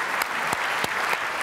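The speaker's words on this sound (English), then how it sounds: "How about a nice round of applause for the Chamber for an excellent event." Brief audience applause for the Chamber at a policy conference keynote, a continuous crowd clapping texture with a few distinct louder individual claps punctuating it.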